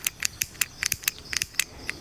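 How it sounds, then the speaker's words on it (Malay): A handheld lighter is flicked over and over in a forest, giving about a dozen sharp, bright clicks in a quick, uneven rhythm, close and fairly quiet with no talking. "Ini lighter saya."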